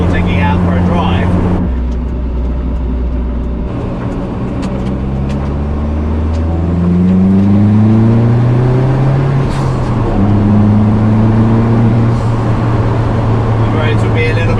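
Vauxhall VX220 Turbo (Opel Speedster) driven in heavy rain, its engine droning and rising through the gears as revs climb and fall, heard from inside the cabin with a steady wash of road and rain noise.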